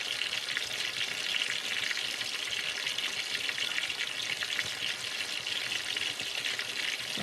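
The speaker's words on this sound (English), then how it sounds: "So now the oil is bubbling up like I like to see it." Chicken pieces fry in hot bubbling oil in a pot, a dense, continuous crackling sizzle heard close up with no talking.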